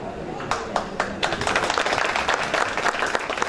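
An audience at an evening event breaks into clapping, starting with a few scattered claps and swelling into steady group applause, with some voices mixed in.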